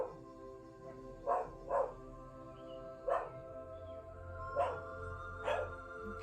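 Italian greyhounds bark around a home driveway: about six short, sharp barks in scattered bursts, fairly close, over a quiet background without speech.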